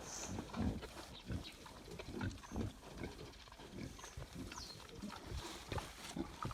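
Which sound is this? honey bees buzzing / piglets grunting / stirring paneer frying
piglets grunting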